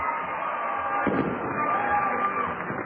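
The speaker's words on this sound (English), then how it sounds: "this fireworks show has been something" Fireworks show at a minor-league baseball game, with bursts and booms popping over a constant roar of a stadium crowd cheering, loud and fairly close, with a faint voice in the mix.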